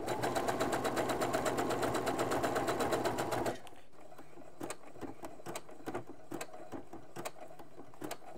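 A sewing machine runs a steady zigzag stitch across menstrual underwear fabric, a fast even mechanical whirr that stops abruptly after about three and a half seconds, leaving faint clicks and handling noises close by.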